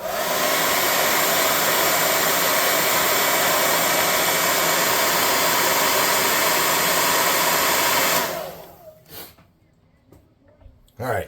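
A hair dryer roars loudly and steadily while drying paint on a miniature red bull figure, then cuts off, leaving quiet handling noises and brief rustles.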